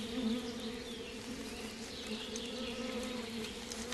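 Honey bees swarm and buzz around a hive in a wild Russian valley, a dense, steady drone held close and loud throughout with no voices.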